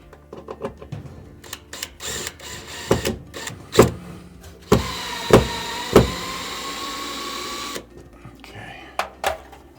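A power drill drives screws while installing an iSpring WGB21B whole-house water filtration system, whirring in short bursts, then running steadily for a few seconds, with clanks and knocks of work nearby and some voices around it.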